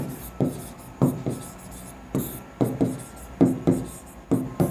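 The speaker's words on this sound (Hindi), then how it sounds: "धार्मिक न्याय मैं कट कर दूंगा लिख के" A pen writing and striking through text on paper, short scratchy strokes in uneven bursts, close and fairly loud.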